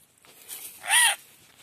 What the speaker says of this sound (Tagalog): Ay, kakaibang ibon to